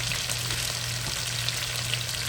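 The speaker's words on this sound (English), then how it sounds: "As I'm talking to you, I'm still stirring these beans." Beans cooking in a pot for a soul-food meal are stirred over a steady, close sizzling and bubbling, with faint scraping strokes through the continuous hiss and no talking.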